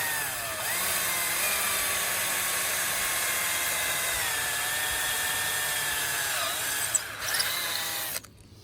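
A handheld power drill bores a hole through a kayak hull, its steady high whine running nearly unbroken for several seconds before cutting off at the end.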